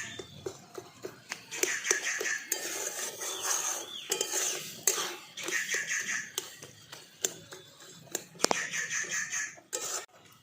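Scraping, rubbing strokes as sarpuria dough ingredients, including khoa, are stirred and mixed by hand in a bowl, with irregular rasping bursts and occasional sharp knocks, close and moderately loud.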